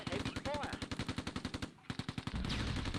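Rapid machine-gun bursts from the war game Close Combat II hammer out in a fast regular rhythm, stop briefly, then resume with heavier mixed gunfire.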